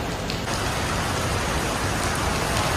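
Heavy rain pours steadily at Katunayake airport in Sri Lanka, a dense, loud, unbroken hiss of water hitting surfaces, with faint traffic noise mixed in.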